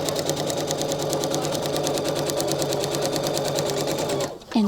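A sewing machine stitches steadily along a line in foundation paper piecing for a quilt block, a loud, continuous rapid needle rhythm running nearly the whole time before stopping abruptly at the end.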